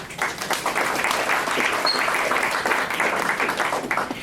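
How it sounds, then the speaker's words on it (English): Warm audience applause for a guest presenter at a running nutrition education session in Melbourne, a dense steady wash of many hands clapping throughout, fairly close and loud, with no talk over it. "I'd like to get a warm round of applause for Amy"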